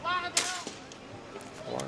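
A single sharp starting-signal shot cracks out early at a skûtsje sailing race at De Feanhoop, then fades into open-air ambience with faint voices nearby.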